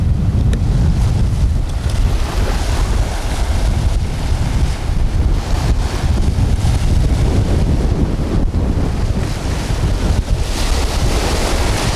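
Strong wind on Maui buffets the microphone outdoors in a steady, loud roar, with heavy low rumble and a faint wash of surf underneath.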